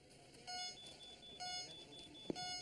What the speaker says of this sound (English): Security alarm at the beach house.